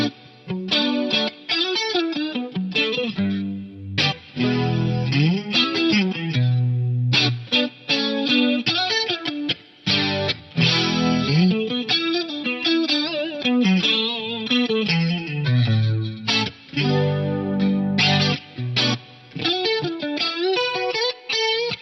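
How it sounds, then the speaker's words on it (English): An electric guitar played through a Bricasti large hall reverb impulse response and a Yamaha symphonic chorus, shimmering and wide with long washy tails, steady melodic phrases filling the space alone without talk. "So this is a Bricasti reverb IR with the Yamaha symphonic chorus."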